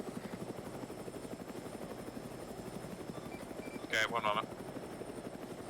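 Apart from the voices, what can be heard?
helicopter in a video game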